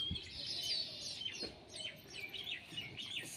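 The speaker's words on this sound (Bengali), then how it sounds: "এগুলো গিরিবাজ পায়রা।" Giribaz pigeons, aggressive high-flying tumbler birds kept for sale, give repeated high chirping calls over a low, noisy background, close by and fairly clear.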